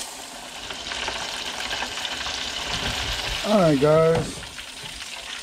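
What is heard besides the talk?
pigfish panfish frying in a pan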